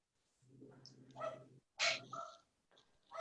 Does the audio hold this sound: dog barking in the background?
yes